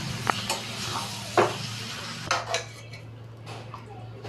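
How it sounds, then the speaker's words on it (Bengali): Metal pots and utensils clank and scrape as spiced mutton is transferred into a pressure cooker in a home kitchen, several sharp clinks and knocks over a steady low hum from a nearby burner or fan. "কুকারে মাংসগুলো দিয়ে দিয়েছি।"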